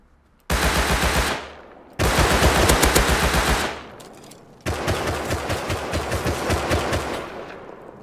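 Enemy gunfire with explosive or incendiary ammo in the video game Rust: three sustained, loud automatic bursts of rapid pulsing shots, each cutting off abruptly, with no voices.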